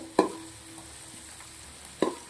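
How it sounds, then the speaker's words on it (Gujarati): Ginger, garlic, green chillies, onion and capsicum frying in oil in a large pot, with a faint steady sizzle broken by two short clattering stirs near the start and end. "આદુ લસણ લીલા મરચાં ડુંગળી શિમલા મરચાં સરસ મજાના શેકી લેવાના છે તેલના અંદર"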